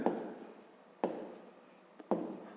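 A pen writes a math solution on paper in three short, even bursts of scratchy rubbing strokes, close and quiet, each starting with a sharp touch-down and fading out.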